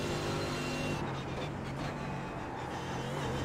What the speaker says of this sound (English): There we are, there is the car sound.